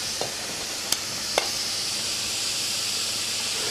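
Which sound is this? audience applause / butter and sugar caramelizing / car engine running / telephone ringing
butter and sugar caramelizing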